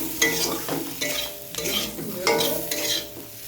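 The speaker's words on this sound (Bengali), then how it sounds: "এবার আমি একটু নাড়াচাড়া করবো।" Brinjal with salt and turmeric sizzles in a pan as a spatula stirs it in a series of repeated scraping strokes, close and clear with no talking.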